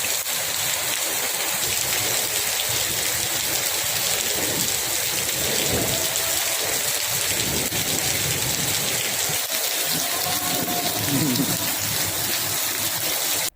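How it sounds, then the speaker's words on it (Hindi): Heavy rain pours down with thunder in Uttarakhand, a dense, constant roar of rainfall with low rolling rumbles of thunder swelling and fading beneath it throughout. "देखते ही देखते तेज गरज के साथ बारिश शुरू हो गई"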